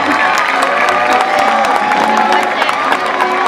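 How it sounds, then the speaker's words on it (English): A SeaWorld San Diego Orca Encounter audience applauds loudly, with dense continuous clapping mixed with cheering, whoops and crowd voices. "let's give her a big round of applause"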